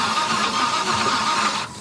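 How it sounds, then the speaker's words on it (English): A Chevrolet Blazer engine with low compression in one cylinder cranks over with an uneven, galloping whir, steady and close, dropping off abruptly at the end. "it's got a bad gallop in it. That galloping sound means one of the pistons is significantly lower on compression than the rest"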